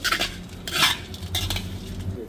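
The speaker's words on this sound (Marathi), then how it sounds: "हा आता धने भाजून घेऊ." Dry coriander seeds with a little dal being roasted in a pan, stirred with a utensil that scrapes and clinks against the metal in quick bursts, a low hum running underneath.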